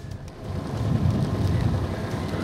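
Motorcycle riding with a helmet on, a steady near rush of wind buffeting over a low engine drone, continuous and fairly loud with no voices.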